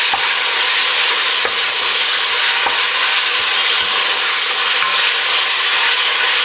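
Cabbage and bacon cook down in a pan, producing a loud, dense, continuous sizzle that fills the whole clip, with a few faint clicks from stirring and no speech.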